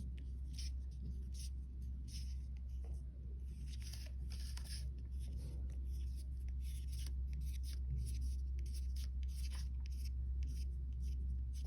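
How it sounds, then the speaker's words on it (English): A marker or pen drawing curved lines across a paper plate for a turkey craft, a faint, steady scratchy stroking with quick repeated strokes over a low background hum. "we're going to draw some curve lines"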